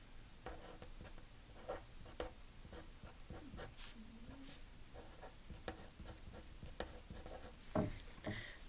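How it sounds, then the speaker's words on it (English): A pencil writes the number 47 on paper. There is faint, close scratching with small taps and strokes, steady and quiet throughout. "So here I am going to write"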